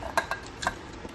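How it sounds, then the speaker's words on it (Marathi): Cut watermelon pieces drop into a metal mixer jar, giving a few sharp clinks and soft knocks spaced unevenly over about a second. "आता हे मी मिक्सरच्या भांड्यामध्ये घालत आहे।"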